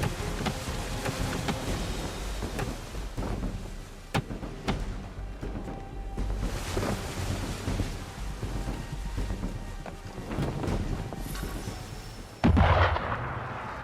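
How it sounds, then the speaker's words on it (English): Gunboats fire cannons during a naval battle in Assassin's Creed III, with repeated heavy booms over a continuous rumble of sea and battle noise, and a sharp loud blast near the end. "Gunboats are above! Why is he shooting at us?"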